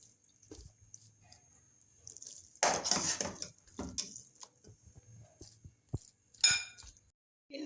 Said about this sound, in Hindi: अब हम डिश आउट कर लेते हैं।